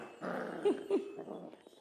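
Seven-week-old mini Goldendoodle puppies growl while wrestling, a short close burst of low rumbling puppy growls with a couple of sharper yelps rising through it.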